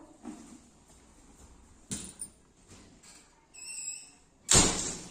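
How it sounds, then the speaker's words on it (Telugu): A few soft knocks and rattles, then a loud, sharp bang of a door shutting at the end, close by in a quiet room. "డోర్ క్లోజ్ చేసి చెప్పు"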